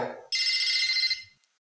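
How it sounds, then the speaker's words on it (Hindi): A telephone rings once in an indoor domestic scene, a bright, continuous electronic trill lasting about a second that stops abruptly, following a brief moment of low voice-like sound. "मोहल्ले वालों को सुना रहा था कि फोन बज रहा है।"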